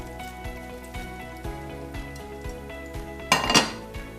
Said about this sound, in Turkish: Biraz önce hazırlamış olduğumuz harcımızı dökelim.